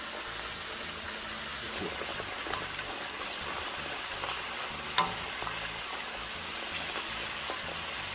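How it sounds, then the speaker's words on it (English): Potato slices frying in hot oil and being turned over, a steady close crackling sizzle throughout, with a soft clink of a utensil partway through and no talking. "They start to look like potato chips, and you want to get them crispy, so you have to keep turning them over so they fry even"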